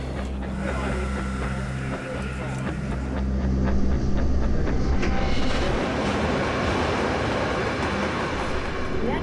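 An Elizabeth Line train pulls away from a station on trial operations, the 200-metre train's motors and wheels rumbling steadily and rising in loudness partway through, close and continuous without talk.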